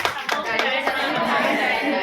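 A group in a school maths workshop applauds with steady, dense clapping, a few sharp individual claps standing out at first, while voices murmur underneath.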